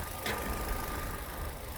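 A used, high-mileage Chevrolet Lacetti engine running steadily, a continuous mid-level hum with a faint tonal whine and low rumble, heard alone at close range.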